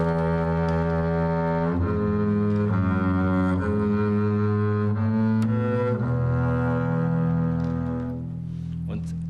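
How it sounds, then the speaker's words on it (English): A double bass bowed with a typical double bass bow, sustained low notes with rich harmonics changing pitch every second or two, loud and close, alone. "This is a typical double bass bow."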